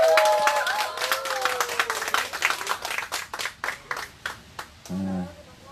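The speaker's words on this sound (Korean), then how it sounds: "우리 유동현님께 다시 한번 큰 박수 부탁드리겠습니다." A crowd at a candlelight protest rally in Seongju claps for a guest, clapping under a talking voice at first, then settling into a rhythmic unison beat of distinct claps before a voice cuts in at the end.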